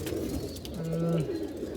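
Giribaz pigeons coo in a short, low, steady murmur, with one clear drawn-out coo standing out near the middle over a soft background of other birds.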